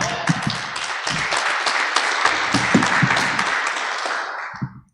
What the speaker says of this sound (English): Pastor White, will you greet him with an applause?